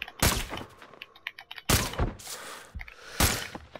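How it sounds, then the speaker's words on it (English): Enemy gunfire in the video game Sniper Ghost Warrior 3, with three sharp, loud shot cracks spaced about a second and a half apart, plus smaller thuds and rattles between them. "They're shooting at us."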